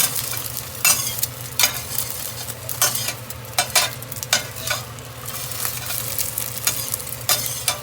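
Scrambled eggs in a stainless steel pan give a steady close sizzle, broken by repeated sharp scraping bursts as they are stirred and flipped, with no talking.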